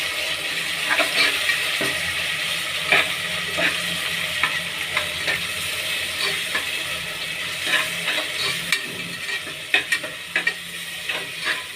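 Ground cinnamon, fennel and chilli paste sauté in a pan for mutton biryani, a steady close sizzle punctuated by scraping stirs and occasional sharper clicks, with no voices.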